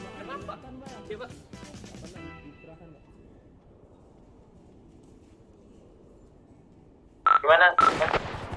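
Bursts of gunfire in GTA V roleplay, a few rapid shots early on, then a loud crackling volley near the end, with voices talking over the quiet stretch between.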